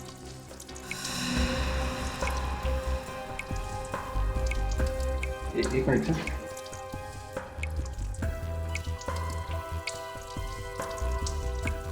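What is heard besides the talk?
water dripping from a leak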